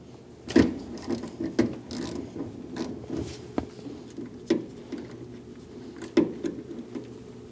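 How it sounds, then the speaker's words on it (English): A 16mm socket on a wrench loosens and removes a spark plug from a 2003-2025 Chevrolet Express 2500 engine, producing quiet, irregular ratcheting clicks, scrapes and metallic taps close by. "Remove the spark plug."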